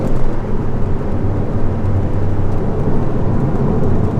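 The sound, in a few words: classic car accelerating up hill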